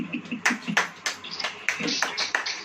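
A church congregation claps in a quick uneven rhythm, a series of sharp separate claps of moderate loudness with no voices over them.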